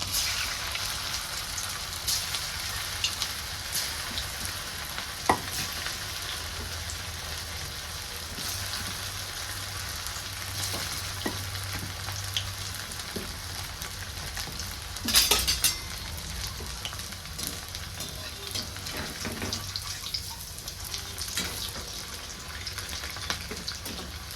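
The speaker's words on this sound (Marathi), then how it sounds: "तेल पण छान असं तापलेलं आहे तर मी यात पकोडे सोडून घेते" Battered leftover-rice pakoras fry in hot oil, a steady crackling sizzle close by for the whole stretch, with an occasional sharp clink of a utensil and no voices.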